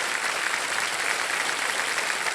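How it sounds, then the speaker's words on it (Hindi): Studio audience applause on the Hindi quiz show Kaun Banega Crorepati, an even, continuous patter of many hands clapping at steady volume with no talk over it. "एक बार फिर जोरदार तालियां आपके।"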